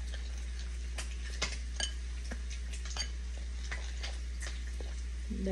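Pancake batter being stirred with milk in a bowl at home: soft, irregular scraping and light clinks of utensil on bowl, faint and close, with a low steady hum underneath and no talking.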